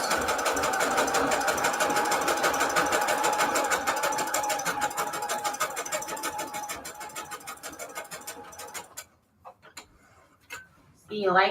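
Electric sewing machine running steadily and loudly for about eight seconds with a continuous mechanical hum and rapid ticking, then stopping, followed by a few faint handling sounds and a short burst of motor at the end, while crafting Valentine's Day embellishments.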